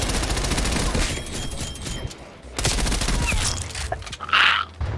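Rapid gunfire from a first-person shooter video game match, with bursts of automatic fire, a brief lull, then more shots and an effect sound near the end, loud and close with no talk.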